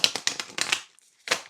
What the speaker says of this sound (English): it's super stiff, and I have to shuffle it in parts.